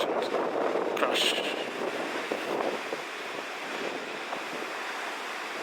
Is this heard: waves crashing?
yes